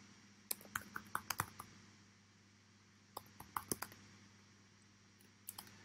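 Fingers type a password on a computer keyboard in three quick bursts of crisp, close key clicks separated by short pauses, quiet overall and with no speech.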